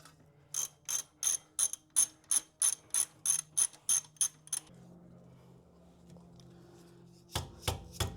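A ratchet clicks rapidly and evenly as 17 mm caliper bolts are undone on a 2023 WRX brake knuckle, a close run of sharp ticks, then quiet and a few more clicks.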